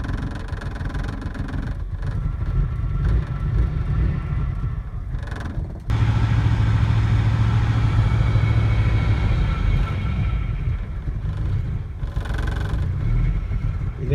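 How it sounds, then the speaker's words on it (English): A car engine barely idles with the foot off the gas pedal, giving a steady low rumble with faint mechanical creaks that shifts slightly in level partway through, with no talking. "the voltage drops way down because the engine's barely idling"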